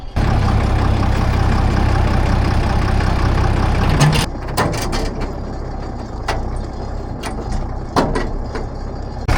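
An old Case tractor engine runs steadily with a loud low rumble for about four seconds, then drops to a quieter idle broken by sharp clanks and knocks.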